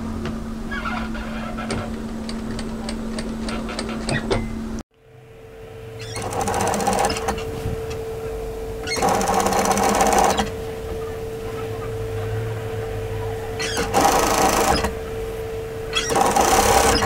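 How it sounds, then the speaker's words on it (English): A sewing machine stitches a tee shirt hem directly through overlocking, running in several bursts of steady mechanical whirring with pauses between, close and fairly loud, with a low hum underneath. "I'm going to stitch directly through the overlocking"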